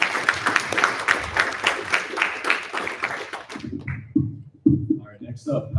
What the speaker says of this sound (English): round of applause for Photon